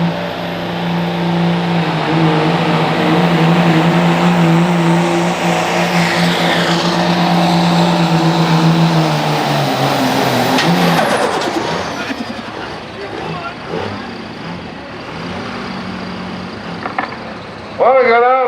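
Pulling truck roaring at full throttle at an antique machinery show's truck pull, a loud sustained engine drone for about ten seconds, then dropping away, with an announcer and crowd noise behind it.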